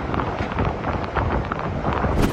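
Strong typhoon wind in Rojas, Oriental Mindoro, roaring loudly and continuously into the microphone with gusty surges, while trees thrash and the sea churns.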